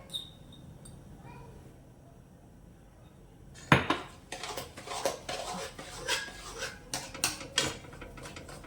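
A spoon scrapes and clinks against a pan while suth powder is stirred into a thick adadiya sweet mixture, starting with quiet tapping and then giving way to busy, rhythmic scraping close by.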